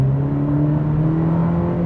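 A 2026 Cadillac CT4 Premium Luxury with a 2-liter turbo accelerates from a standstill, its engine a steady low drone with a rising tonal hum heard from inside the cabin, moderately loud and without talk.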